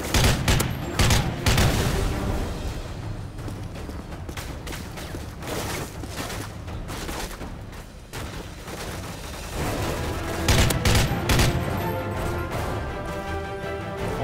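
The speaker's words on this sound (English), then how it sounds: "Oh, they're shooting at me pretty good too." Gunfire in Call of Duty: Modern Warfare 3, with dense bursts of rapid automatic shots and heavy impacts, loud and sustained through the whole stretch, easing slightly in the middle before intensifying again.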